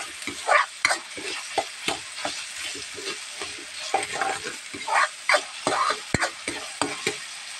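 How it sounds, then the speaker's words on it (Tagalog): Ramen ingredients stirred and fried in a pan, with a soft continuous sizzle broken by repeated scraping strokes of a utensil against the metal in an uneven rhythm, close up and without talk. "Tapos, inimekos-mekos natin yan."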